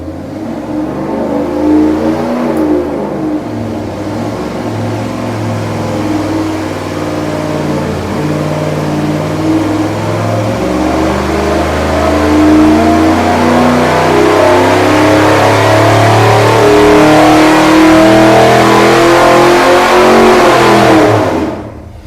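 A Chevy 400 small-block engine with its camshaft advanced four degrees, revving on a dyno: a loud, close, sustained run that climbs steadily in pitch for about twenty seconds before cutting off abruptly.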